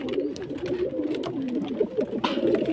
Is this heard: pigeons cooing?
yes